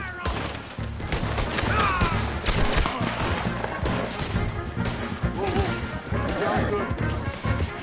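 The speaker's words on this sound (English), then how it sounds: "Open fire on him" Gunfire in Red Dead Redemption 2 erupts in a dense, continuous fusillade of overlapping shots and crashes, loud and close, with voices shouting over the shooting throughout.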